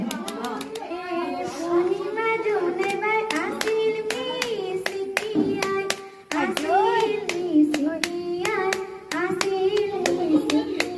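Hands clap along in a steady rhythm at a Bihu feast gathering while young girls Gungun and Bidisha sing, the claps sharp and close over the singing voices.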